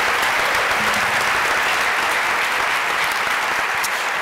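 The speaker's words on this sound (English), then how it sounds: "let's give Neuqua Valley Music a big round of applause" Sustained applause from an audience honoring school music students at an evening honors ceremony, a steady dense roar of clapping hands filling the room throughout.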